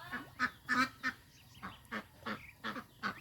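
Farm ducks near rice fields give a series of about nine short, separate quacks in an uneven rhythm, close by and fairly clear against a quiet background, with no talk.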